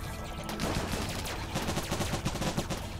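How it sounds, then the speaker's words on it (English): Gunfire in the colony-building game Rimworld, a dense run of repeated shots at steady loudness across three seconds, with no talking over it. "as Revna takes a shot"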